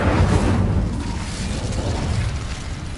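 Fire spell cast in Hogwarts Legacy, a broad roaring whoosh of flame, loud and steady throughout with a low rumbling body and no speech.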